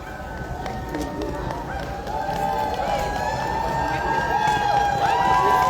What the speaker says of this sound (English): You can hear the crowd loves this team